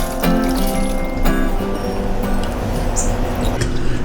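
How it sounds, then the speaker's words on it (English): Water pours and trickles out of soaked rice as it is drained, a close, steady liquid splashing with a few brief clinks. "So we need to get rid of the water from the rice."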